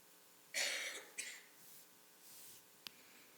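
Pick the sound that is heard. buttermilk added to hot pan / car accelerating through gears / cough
cough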